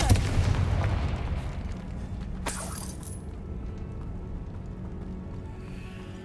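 A Confringo blasting spell goes off in Hogwarts Legacy: a heavy, booming blast opens, followed by a sharp crackling burst and a long rumbling decay, with no voices.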